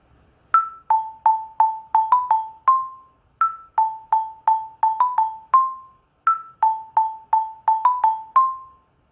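Orff xylophone struck with mallets in a Halloween music lesson, playing a clear bright melodic phrase of quick repeated notes three times in a row, each pass ending on a held ringing tone, with no voices.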